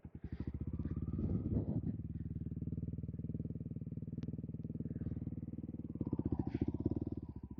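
A dual-sport motorcycle rides through bushes, its engine a steady, loud mid-pitched drone with rapid firing pulses, brushing and clatter from the undergrowth, and a brief swell in revving toward the end.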